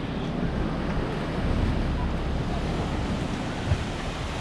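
Waves wash onto a beach beside a small pier at Drašnice, a steady broadband rush of surf mixed with wind buffeting the microphone, continuous and fairly loud with no voices.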